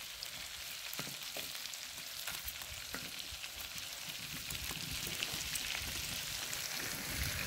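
Coarsely chopped garlic sizzles in a pan over a wood fire, a soft continuous frying hiss with scattered small pops and crackles, fairly faint and without talk.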